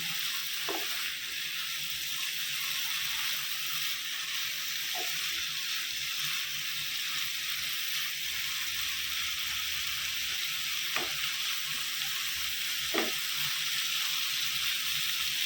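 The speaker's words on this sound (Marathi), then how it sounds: "मी फक्त तेलावर परतून घ्यायची भाजी." Fenugreek greens sizzle steadily in hot oil in a full wok, a constant close hiss broken by a few sharp scrapes of stirring. No one speaks.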